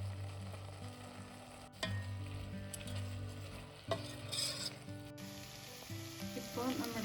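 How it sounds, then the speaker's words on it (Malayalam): Dried fruits simmer in juice over a medium-high flame for a rich Christmas plum cake, giving a steady bubbling sizzle with occasional stirring scrapes, close and continuous throughout. "ഇനി നമുക്ക് ഒരു മീഡിയം ഹൈ ഫ്ലെയിമിൽ മെയിൻറ്റെയിൻ ചെയ്തിട്ട് ഒന്ന് കുക്ക് ചെയ്തെടുക്കാം"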